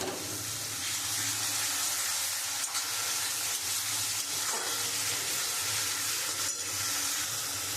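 Beaten yogurt hits hot, well-fried masala for a prawn malai curry, giving a loud, steady, broadband sizzle that hisses continuously for several seconds, with faint stirring scrapes and no talk.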